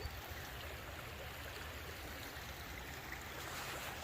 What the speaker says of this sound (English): Look how high the river is.